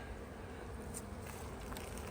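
Honey bees humming around an open hive during a colony inspection after a swarm prevention split, a soft, continuous buzzing drone with no talk, faint and close.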